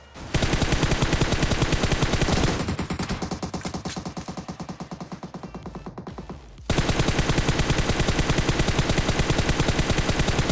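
Rapid automatic gunfire from a shooter video game rattles in dense, even bursts, loud and close, with a short pause after a softer stretch before the firing resumes at full strength.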